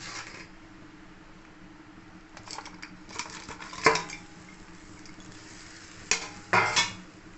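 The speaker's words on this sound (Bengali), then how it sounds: "আবার ভালো করে নেড়ে নেবো।" A spoon scrapes and clanks against a pan while fried chilli chicken is stirred in its sauce, with a soft steady sizzle underneath and a few sharper metallic knocks toward the end.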